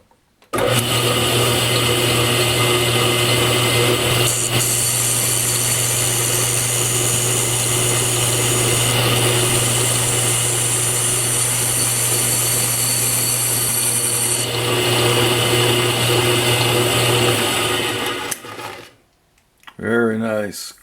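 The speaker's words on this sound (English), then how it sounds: "First thing I'm going to do is take a light skim across the face to make sure that that's" A metal lathe takes a light facing skim across a newly mounted chuck, a loud steady whir with a constant tone that runs for about eighteen seconds before spinning down. It is followed by brief rustling handling noise.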